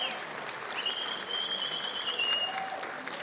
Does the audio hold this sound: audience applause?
yes